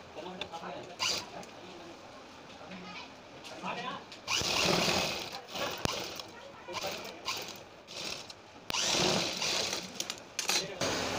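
A sewing machine stitches buckram onto a kurti neck in short irregular bursts of whirring, loud and close, separated by pauses.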